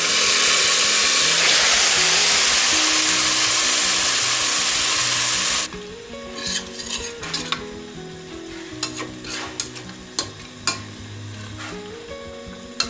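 Spiced duck meat fries with onions in an intense, continuous sizzle that cuts off abruptly and gives way to quieter scraping and stirring knocks in the pan.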